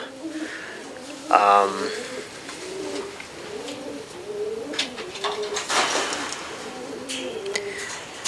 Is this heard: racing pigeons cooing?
yes